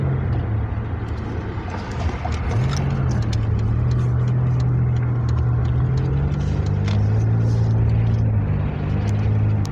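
Steady road traffic with cars rolling past at close range, a continuous loud engine and tyre drone with shifting pitch and no pause.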